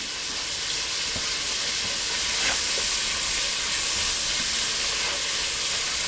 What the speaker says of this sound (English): I'm just trying to saute this.